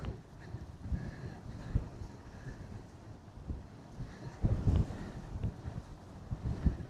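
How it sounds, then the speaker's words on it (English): Gusty wind at Port Canaveral buffets the microphone with low, uneven rumbling bursts, rising and falling throughout and strongest near the end. "it's so windy"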